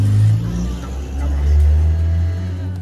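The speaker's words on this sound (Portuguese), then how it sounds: "Ele vai dar uma volta na moto pra ver se tá tudo ok." Yamaha XJ6 motorcycle engine revving as it pulls away after a workshop visit, a loud low rumble that rises and surges close by.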